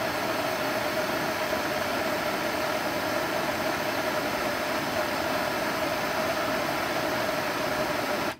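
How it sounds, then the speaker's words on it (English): A torch flame plays on a ceramic-coated trailer surface, making a steady, loud broadband roar that runs without a break throughout. "I am going to hit this with a torch."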